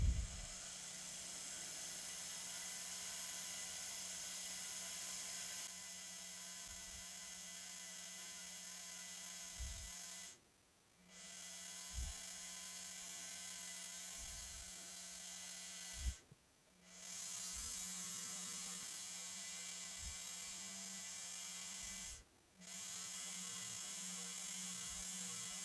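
A rotary tool polishes the outside of a ring band with a high, steady whir, stopping briefly three times before running again, close up with faint tapping contacts and no speech.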